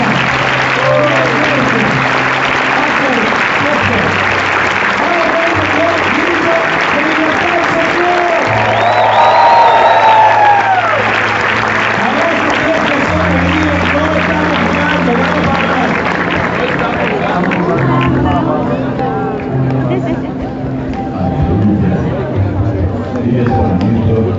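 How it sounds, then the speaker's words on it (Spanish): A church congregation applauds continuously during a worship service, with dense clapping sustained for a long stretch, mixed with music, a raised voice and some cheering. "aplauden al Rey de Gloria"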